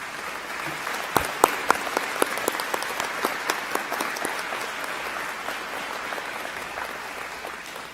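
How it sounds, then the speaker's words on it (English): A graduate commencement crowd applauds for standing faculty, dense sustained clapping from many hands with a few sharper individual claps near the start, holding at an even level for several seconds in a large hall. "I would like to ask all of our faculty to stand as we give them a round of applause"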